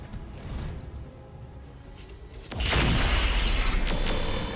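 Weapons fire at an Awesome mech in the RogueTech BattleTech mod: a low rumble builds, then a loud, sustained burst of booming impacts and crackling noise swells for the last two seconds.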